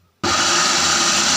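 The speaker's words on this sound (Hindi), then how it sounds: "इसको अब हम दोबारा से ब्लेंड करेंगे" A blender whirs loud and steady, grinding green chilies, garlic paste, mint and coriander for a chicken seekh kabab mix, starting abruptly after a brief quiet moment.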